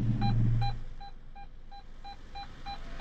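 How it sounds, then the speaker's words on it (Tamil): A car's reverse parking sensor gives steady, evenly spaced electronic beeps, about eight in a row, fairly faint and alone, after a brief low rumble at the start. "பீப்போடைய சவுண்டு இன்க்ரீஸ் ஆகுது"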